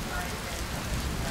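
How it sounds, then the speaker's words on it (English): Steady rain falls outside a boat under construction, where bulkheads are being varnished, giving a continuous dense hiss of drops on surfaces that holds an even level throughout. "Rainy day this morning."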